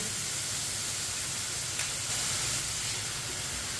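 A spoonful of vinegar hitting a hot pan of chicken over low heat, giving a steady, close, broadband sizzling hiss that holds evenly for a few seconds with no talking.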